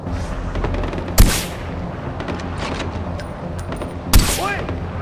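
Gunfire in the video game Far Cry 4, with two loud sharp shots about three seconds apart over a constant noisy battle background.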